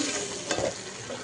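Chicken curry in a pot is stirred with a spoon over quiet sizzling, a brief close scraping stir with a soft clack at the end.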